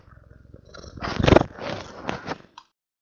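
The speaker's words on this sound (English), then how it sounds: "She has such a loud purr. It is indeed audible." A cat purring loudly up close, a continuous rumbling vibration that swells in the middle and fades out after a couple of seconds, with no talk over it.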